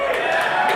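A comedy club audience at the Laugh Factory in Chicago lets out a brief burst of cheering and whooping, a loud crowd roar lasting under a second.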